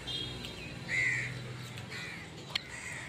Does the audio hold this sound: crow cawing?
yes